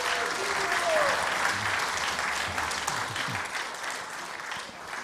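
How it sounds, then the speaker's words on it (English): An audience at an ISKCON initiation ceremony at Bhaktivedanta Manor gives loud, sustained applause, peaking early and slowly fading, with voices faintly under it. "Let's give them a big round of applause."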